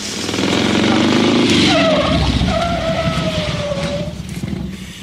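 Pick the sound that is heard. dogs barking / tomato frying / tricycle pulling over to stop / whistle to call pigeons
tricycle pulling over to stop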